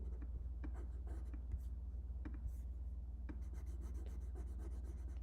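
Stylus writing on a screen or pad while working out a math expression, quiet close rubbing strokes with small taps over a steady low electrical hum.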